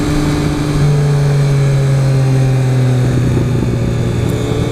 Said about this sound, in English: Oh man, the overrun sounds awesome.